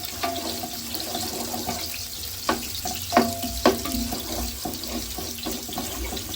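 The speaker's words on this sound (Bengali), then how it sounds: "এবার আমি দিলাম পেঁয়াজ।" Onions sizzle and fry in a pot for mehedi pilau rice, a steady hiss broken by a few clattering stirs and knocks, with no talking.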